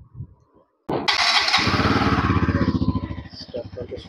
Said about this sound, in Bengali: আমি একবার আপনাদের এর এক্সস্ট সাউন্ড আর ইঞ্জিনের সাউন্ড একবার স্টার্ট করে শুনিয়ে দিচ্ছি।